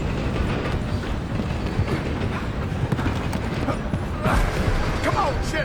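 A moving train in the Red Dead Redemption 2 video game gives a steady, dense rumble with rhythmic rail clatter, loud and continuous throughout, with game noise and a brief louder surge near the end.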